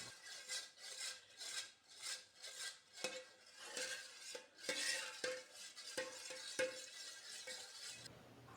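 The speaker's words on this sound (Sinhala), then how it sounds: "ඊළඟට පොල් කිරි වලට ජෙලටින් මිශ්‍රණය දාගන්නවා. දැන් මේ ටික හොඳට කලවම් කරගමු." Coconut milk with gelatin mixture being stirred for homemade yogurt, a spoon scraping around the bowl in rhythmic strokes with clinks against the sides, close and fairly quiet, no talk.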